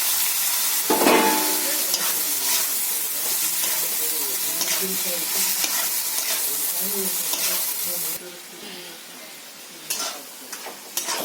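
Chicken being sautéed in a pan, bright crackling sizzle with repeated stirring scrapes up close; the sizzle drops away toward the end, leaving quieter clatter.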